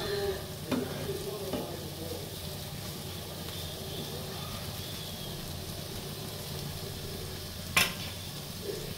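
Garlic butter mushrooms roasting in a pan on low heat give a steady, soft sizzle and fry throughout. A couple of faint utensil scrapes and one sharp clink near the end stand out. Close, with no voices.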